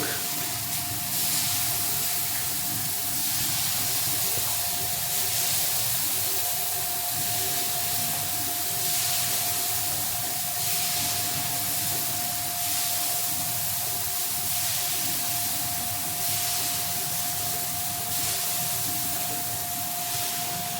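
Water sprinkled onto a hot pan while making set dosa gives a steady, loud hiss and sizzle with a spray-like rush that holds for about twenty seconds. A faint constant tone runs underneath and no one talks.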